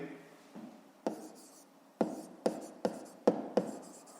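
Handwriting on paper during a fifth-grade maths lesson, with a series of separate close strokes and taps in an uneven rhythm, quiet and alone.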